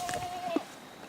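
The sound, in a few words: goat bleating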